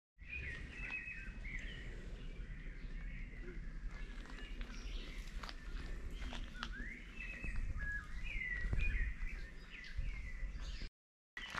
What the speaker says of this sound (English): There's so many beautiful birds